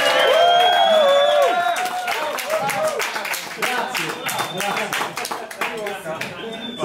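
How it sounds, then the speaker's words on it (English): An audience at a bartending competition claps hands in a rapid, scattered wave amid cheers and whoops, while voices talk loudly at first and the clapping settles into a steady rhythm. "Can you give me a clap of hands?"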